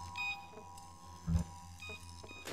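Electronic beeping from the video game Bioshock: a few short, faint tones repeat over low game background noise.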